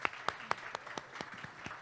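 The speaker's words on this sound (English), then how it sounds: "Let's give them a round of applause." Audience applause at a food-future conference panel: sparse, steady claps from a modest crowd in a hall, evenly spaced and fairly faint, with no one speaking.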